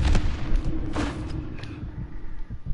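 Sniper gunfire in a battle royale video game: a few sharp, distant-sounding shots cracking out over a low rumbling background, with a lull between them.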